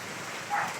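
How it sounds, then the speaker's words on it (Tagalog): Constant hiss of heavy rain falling on a surface in Batangas City, steady and moderately loud, with no voices. "Napakalakas po ng ulan dito."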